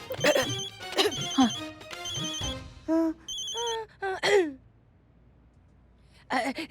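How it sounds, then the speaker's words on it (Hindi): A telephone bell rings in several bursts, with a person sighing and gasping between the rings, then a final ring after a short pause. "डीएसपी सर का फोन आ रहा है।"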